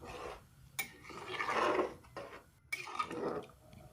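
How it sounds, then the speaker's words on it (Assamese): Spoon scraping and stirring pulao rice with water and salt inside a pressure cooker, two close rasping metal-on-metal strokes with short pauses between them, no talking. "আৰু এবাৰ ভালদৰে মিহলাই লম"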